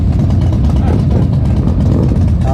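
Yamaha Stryker motorcycle engine running steadily and loud throughout, a constant low rumble while riding through Sydney streets, with no pauses or gear changes standing out.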